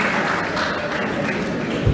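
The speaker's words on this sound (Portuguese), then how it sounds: "Uma salva de palmas para o Senhor" A church congregation claps for the Lord in a steady, dense burst of applause that fills the room throughout.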